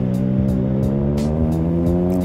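In heavy traffic on a slippery wet street, a steady engine drones close by with low rumbling. Faint ticking clicks recur at an even rhythm above it.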